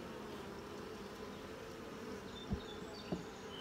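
Honeybees buzz in a steady, moderately loud drone around an open beehive full of capped brood and pollen-packed frames, with a couple of brief knocks near the end.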